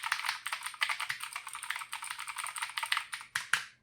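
Rapid, steady clacking from a Drevo Caliber mechanical Bluetooth keyboard being typed on at a desk, keystrokes close and crisp in a continuous run with no voices.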